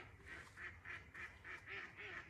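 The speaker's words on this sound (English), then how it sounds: "Got my duck alarm clock going off, very nice." Ducks quacking in the morning at a carp fishing lake, a steady run of repeated calls, fairly distant and soft, over a quiet outdoor background.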